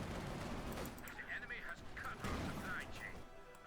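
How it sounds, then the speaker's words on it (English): Gunfire from a Company of Heroes 2 battle, Wehrmacht OKW against US Forces: rapid crackling bursts of small-arms fire rattling continuously throughout, slightly distant and mixed with battlefield noise, while a commentator talks over it. "Shots fired."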